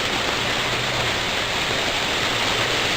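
Clear water pours steadily out of a curb drainage filter into a tub, a constant loud rushing splash with no breaks and no voices.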